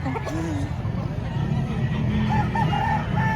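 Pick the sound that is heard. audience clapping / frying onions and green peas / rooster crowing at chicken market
rooster crowing at chicken market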